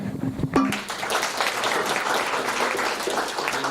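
A conference audience at a stakeholders' event commemorating the Day of the African Child claps steadily after a short voice at the start. The applause is dense and even.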